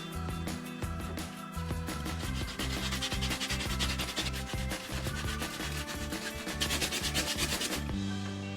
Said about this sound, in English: grab a piece of sandpaper and smooth out the cut areas until they are even and free of burrs